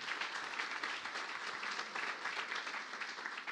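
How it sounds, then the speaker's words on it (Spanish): Congregation applauding inside a church in Barakaldo, a fairly quiet, continuous wash of many hands clapping with no speech over it. "Un aplauso para la señora."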